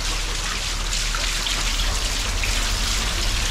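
Heavy monsoon-style rain pours down in Pali, Rajasthan, in 2023, making a dense, steady hiss of downpour that stays loud and unbroken throughout, with no voices heard.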